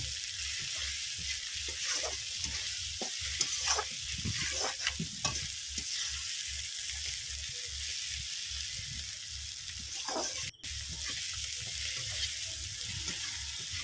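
Prawns stir-fried in a pan over a wood-fired clay stove give a steady low sizzle broken by repeated scraping stirs of a spatula, close and moderately loud, with no talking.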